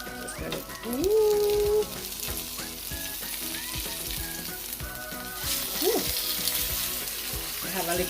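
A beef quesadilla with cheese sizzles and crackles steadily in a hot pan, close and fairly loud, with a few scraping, flipping handling sounds mixed in and some brief tonal squeaks over the frying.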